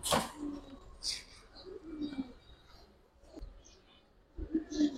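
A young Kaldom pigeon pair offered for sale coos softly and intermittently, the quiet calls mixed with handling rustles and a few sharp clicks and thumps.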